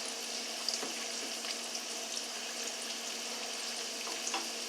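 Broccoli frying in oil in a pan, a steady soft sizzle with faint crackles and a few small clinks from turning the pieces, no voices.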